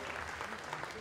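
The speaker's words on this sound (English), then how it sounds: "Big applause." Faint, distant crowd applause at a women's 50 m rifle three-positions shooting final, a steady wash of clapping with voices mixed in.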